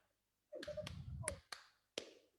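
Five sharp hand claps close by, part of a clapping pattern at an Indonesian ice-breaker training event, land in an uneven rhythm, with a bunched group followed by two spaced single claps.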